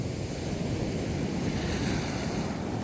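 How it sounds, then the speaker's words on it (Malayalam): Ocean waves surge against the shore in a continuous loud roar of surf, mixed with gusting wind buffeting the microphone, with no voices. "വെള്ളത്തിന്റെ തിരമാലയുടെ ശക്തി കൂടിക്കൂടി വരിക കേട്ടോ"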